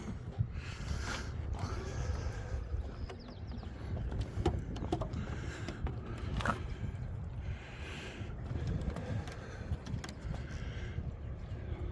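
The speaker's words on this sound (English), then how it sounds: "Engine's on." A dinghy outboard engine runs steadily with a continuous mechanical drone and occasional clunks, moderately close, with no talk over it.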